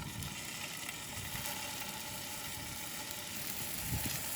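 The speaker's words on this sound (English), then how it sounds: "we're just going to get our meatballs cooking in the pan" Meatballs frying in olive oil in a hot pan, a faint steady crackling sizzle throughout with light clicks of movement in the pan, quiet and without talk.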